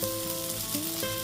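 Cumin powder and Kashmiri chili powder sizzle steadily in a frying pan for a fish curry with potato and eggplant, a close, continuous crackling hiss with no voices.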